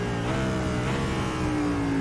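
A race car in a Daytona racing sim launches with a clutch dump, its engine revving hard and steady under a droning mechanical roar, with a rising whine near the end and no talk.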